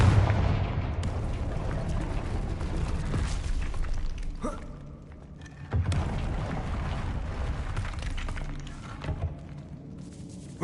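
Repeated Confringo spell explosions in Hogwarts Legacy: heavy booming blasts with crackling debris, a lull around the middle, then another loud burst and continued rumbling.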